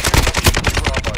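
Loud rapid automatic gunfire in the video game Call of Duty Modern Warfare 2022 during a Ground War match, a dense burst of close shots with no pauses.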